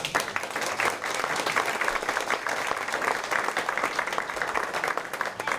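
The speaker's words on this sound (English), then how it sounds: "Can we also have another great round of applause for our wonderful ones?" Continuous applause from a crowd at a candidates' night event, dense, even clapping from many people that runs unbroken at moderate loudness.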